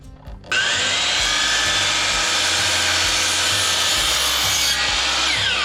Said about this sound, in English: the top one I need to cut at this angle so it slides in behind it and splices it together